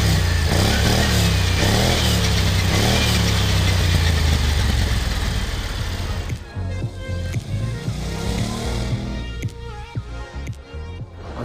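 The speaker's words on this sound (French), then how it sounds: "Ce qui frappe en premier lieu lorsqu'on commence à évoluer avec ce nouveau scooter sportif signé BMW, c'est sa sonorité." A BMW C650 Sport scooter from 2016 with a dual-outlet exhaust runs loud and close, its steady mid-pitched engine note holding for several seconds before easing into a lower, uneven burble.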